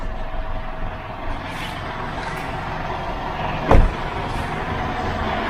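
After a jump start from a dead battery, a car engine idles with a steady low rumble, close by, with one brief louder thump midway.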